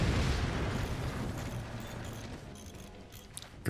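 Explosions from the artillery strategy game Forts, heavy low booming rumble rolling continuously, loud at first and gradually easing, with no talk over it.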